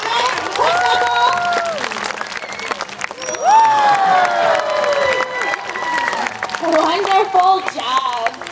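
An audience at an aquarium sea lion show claps and cheers in a steady, loud wash, with a voice over a loudspeaker carrying above the crowd.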